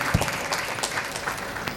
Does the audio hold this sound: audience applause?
yes